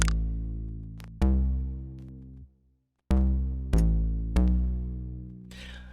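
A deep analog-style bass synth patch from Omnisphere plays a slow series of sustained, buzzy low notes, each struck with a sharp attack and then held, with a brief silent gap midway.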